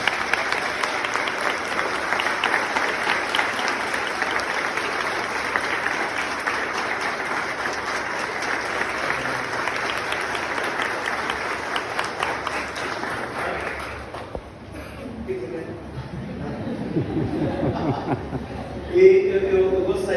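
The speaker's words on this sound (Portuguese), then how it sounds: "Vamos dar uma salva de palmas para o Israel." Applause from a Catholic church congregation at a farewell Mass, sustained and full for about fourteen seconds before fading, after which a voice speaks.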